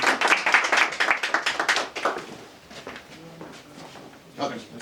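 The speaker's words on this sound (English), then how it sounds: "round of applause for her" A short burst of clapping from a small audience rings out at a photography workshop, then someone speaks over it and it fades.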